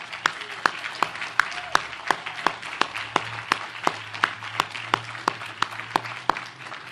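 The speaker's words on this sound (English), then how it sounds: "How about a round of applause?" Clapping at the commissioning ceremony of the submarine USS Hyman G Rickover, heard as sharp, evenly spaced claps from a nearby individual over a softer, thinner spread of applause, lasting about seven seconds.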